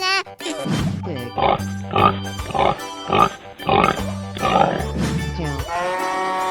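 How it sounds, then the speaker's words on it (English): A pig in a 3D animal slide video game grunts and oinks in a quick run of short, close snorts over steady game background sound. "Pig."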